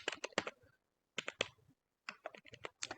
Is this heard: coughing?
no